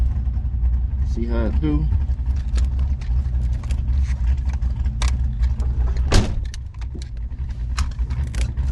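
A Chevy drag race car's engine idles with a deep, steady rumble while a person talks over it. A short clunk lands near the end and the rumble dips slightly afterward.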